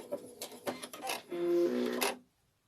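A sewing machine stitches fabric onto tape, starting with a few short clattering bursts before a sustained whirring run that stops abruptly, close by with no talking.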